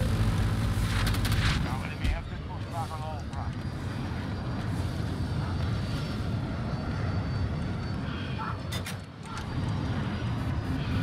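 Airplane engine drone from a fixed-wing aircraft in Battlefield 2042, a steady loud roar that runs through the whole stretch with occasional gunfire-like bursts, with people talking over it.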